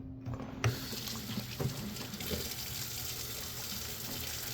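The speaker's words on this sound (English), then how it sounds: "I definitely need to wash my hands." Tap water running into a sink while hands are washed, a steady splashing stream with brief pattering shifts as the flow is broken, close by and without voices.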